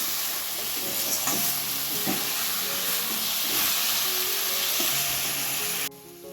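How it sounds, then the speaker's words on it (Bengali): Tomato paste fries with potato and onion in a pan, giving a loud, steady sizzle and hiss with occasional soft stirring knocks, then cutting off abruptly near the end. "এবারে এই টমেটোর পেস্টটা দিয়ে দিলাম এবারে এটাকে ভালো করে কষাতে হবে"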